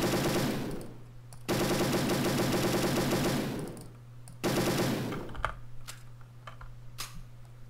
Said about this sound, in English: I just love reloading the guns